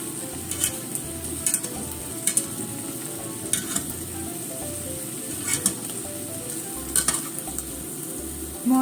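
Mochi rice cake sizzles in a pan after being flipped, a steady close frying crackle with light clinks of a utensil against the pan at intervals.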